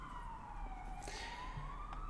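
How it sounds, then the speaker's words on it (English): Emergency vehicle siren in Warsaw, a faint distant wail sliding slowly in pitch, heard through a window over low room hum, no talk. "we have some high frequency of sirens now. I mean sirens."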